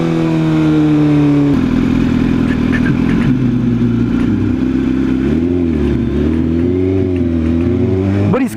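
Motorcycle engine under a rider turning through a U-turn, rumbling steadily and close by, with the pitch dipping and rising as the throttle shifts through the turn.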